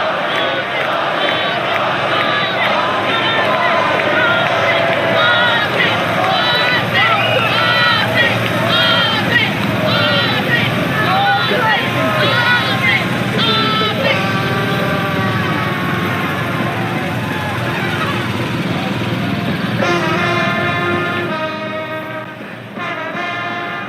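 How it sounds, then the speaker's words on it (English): A huge street crowd cheers and chants through the Birmingham funeral procession for Ozzy Osbourne, a dense, loud, continuous roar of many voices with rhythmic chanting, an engine idling underneath, fading slightly at the end. "We're just going to pause just to listen to the cheers."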